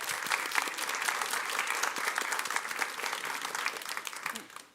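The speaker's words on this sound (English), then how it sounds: "Let's please give her a round of applause." Applause at a school board meeting, a dense, sustained round of clapping from the room that holds steady and then tapers off at the end.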